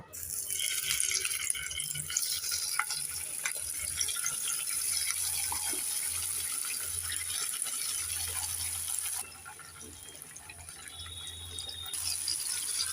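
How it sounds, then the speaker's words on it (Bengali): Bata fish rubbed with salt and turmeric sizzle in hot oil, a steady bright hiss and crackle close by, dipping briefly in intensity partway through before rising again. "এবার ওই তেলের মধ্যেই মাছগুলোকে ভেজে নেব"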